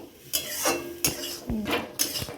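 Milk being stirred into spiced, ginger-and-garlic cooked meat in a pot, a spoon scraping and clinking against the metal in a few distinct strokes about every half second, close and clear.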